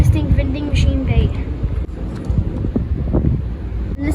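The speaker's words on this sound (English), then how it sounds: "If you guys hear any wind, it's because it's windy today." Strong wind buffets the microphone outdoors on a blustery day at a fishing spot, a loud continuous rumble with gusty surges throughout.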